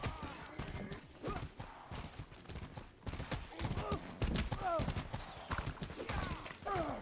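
Horse hooves clip-clop in Mordhau during a chaotic Camp Frontline battle, irregular and fairly close, mixed with combat noise and talking voices.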